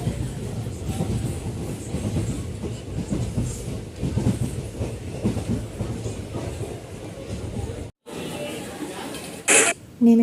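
Rumbling low noise from inside a moving passenger train on a short one-stop ride to Khagra station near Berhampore, Murshidabad, steady and close for about eight seconds, then a brief drop to quieter cabin sound with a short sharp burst.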